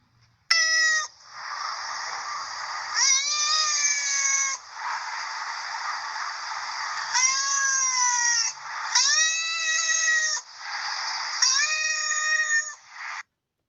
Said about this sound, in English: It's a cat sound.